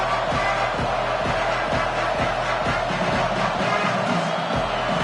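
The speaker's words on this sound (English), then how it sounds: "the crowd is making it really hard to communicate and hear each other right now down on the field" Stadium crowd roaring at a playoff game in a college football video game, a dense, steady wall of cheering with a rhythmic pounding beat underneath.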